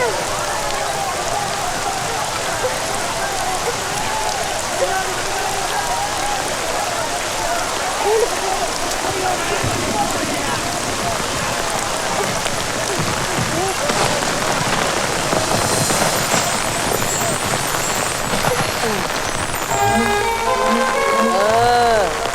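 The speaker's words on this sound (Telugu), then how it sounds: "అయ్యో వాన." Steady rain falls throughout a Telugu film comedy scene, a dense continuous hiss with scattered drop detail; near the end other sounds and voices rise over the downpour.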